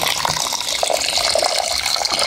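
Water runs steadily from a household tap in a rural Filipino kitchen, a continuous close hiss and splatter with no pauses and no talking.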